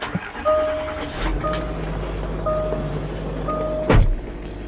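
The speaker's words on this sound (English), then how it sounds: "So the seat raises into position," Electric memory seat motor in a Range Rover TD V8 Vogue whirs as the seat raises into position, a steady close mechanical hum with faint tonal whine, ending in a soft clunk.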